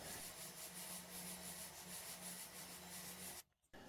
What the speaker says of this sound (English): this is basically just an inside deburring tool for pipe. And you just run it around the inside just like that, and it cuts the burrs off.